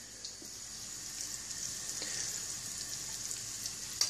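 Frog legs fry in a pan with a steady, close sizzle and crackle, joined now and then by a few small pops. No one speaks.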